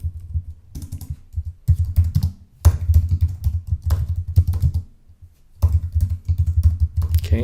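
Code being typed on a computer keyboard, close rapid bursts of key clicks in several runs, separated by short silent pauses.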